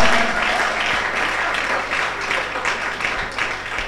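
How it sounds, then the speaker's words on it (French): Church congregation at a Sunday service breaking into steady applause and cheering, a dense wash of clapping that holds for several seconds with crowd voices mixed in. "Est-ce qu'on peut bien acclamer les seigneurs des seigneurs?"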